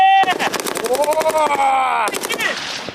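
Rapid bursts of automatic rifle and shotgun fire crackle in quick succession, loud and close, with a shouting voice and tonal sounds layered over the shots, as artillerists shoot down drones.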